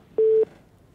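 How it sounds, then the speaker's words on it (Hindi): A telephone busy tone sounds once after a call drops during a live phone-in discussion: a single steady, clear beep lasting about a quarter second, followed by quiet. "चलिए फोन कट कर गया"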